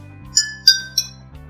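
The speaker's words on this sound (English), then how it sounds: "we slide our spoon across all three glasses, from the one without water to the one with some water and on to the last one which has more water" A spoon slides across three drinking glasses holding no water, some water and more water, giving three bright clinking rings in quick succession over a faint low hum.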